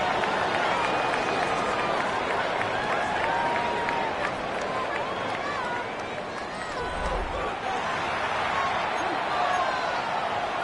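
A stadium crowd roars steadily in a Madden NFL football video game, a broad continuous wash of cheering noise with a commentator's voice talking over it.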